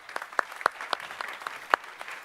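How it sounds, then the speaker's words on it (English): Sparse applause at the Security Fest 2025 security conference, a handful of separate, crisp hand claps coming irregularly and fairly quietly, with no crowd roar behind them. "Give them a round of applause,"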